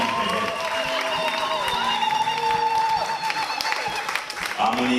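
Church congregation applauding during a service, a dense, steady wash of clapping with murmuring and some voices mixed in throughout.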